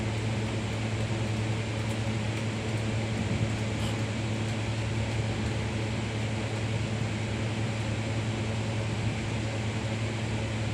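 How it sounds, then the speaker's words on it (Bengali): An air cooler runs in a hot kitchen, making a constant, even whir with a low steady hum and no breaks throughout. "এক্সট্রা সাউন্ড আসছে, কুলার চলছে গরমের মধ্যে, তাই সাউন্ডটা আসছে কুলারে"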